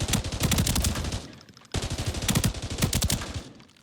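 A newly added gun in the video game Arena Breakout Infinite is test-fired in two long, rapid automatic bursts with a brief gap between them. The shots are loud and close, and no one talks during the firing.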